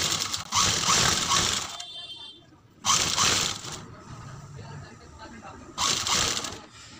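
A sewing machine stitching piping onto a kurti neck runs in three loud, close bursts of rapid mechanical whirring, separated by quieter pauses with faint handling sounds.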